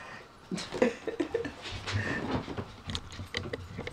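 Dogs causing a commotion indoors during a Christmas visit, with faint whimpers, snuffling and panting plus scattered shuffling and thumps, low and close, with no speech.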